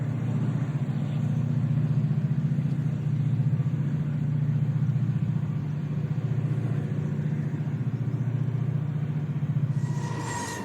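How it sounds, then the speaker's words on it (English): A pair of older EMD diesel locomotives works hard as pushers shoving a heavy southbound freight train on the Youngstown line, a steady loud low engine drone with pulsing rumble throughout, close by and continuous. "heavy trains headed south on the Youngstown line often rate pushers, such as this pair of older EMDs smoking up a storm"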